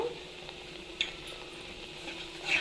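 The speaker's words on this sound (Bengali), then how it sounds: "সুজিটা ভালো করে নাড়াচাড়া করে নিতে হবে।" Semolina being stirred in a pan with cardamom powder and sugar: a quiet, steady scraping sizzle with a couple of light clinks.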